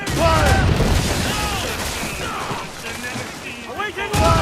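Ship cannons boom during a naval battle in Assassin's Creed Rogue, heavy blasts heard under a crew singing a shanty and shouting, with a fresh burst near the end.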